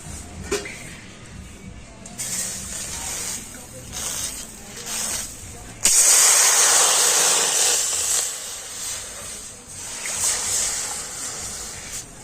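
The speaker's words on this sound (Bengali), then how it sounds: "আমি দু বাটি জল কড়াতে দিয়ে দিচ্ছি" Two bowls of water hit a hot wok (kadai) with a sudden loud, rushing hiss that bursts in midway and slowly fades, following quieter kitchen clatter, while a voice talks over parts of it.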